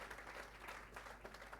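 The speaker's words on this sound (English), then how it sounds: "Give him a very loud hand clap." Steady, dense hand clapping from an audience at a graduation ceremony, continuous and fairly even throughout with no voices over it.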